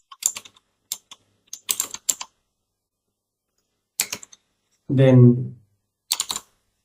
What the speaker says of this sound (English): Then you type a password.